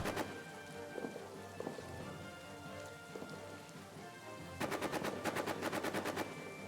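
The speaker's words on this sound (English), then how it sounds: "Being shot at by a machine gun" Machine gun fire in a trench warfare game: a rapid burst of sharp shots near the end, over a steady rain-like noise bed with a few scattered earlier impacts, loud and close.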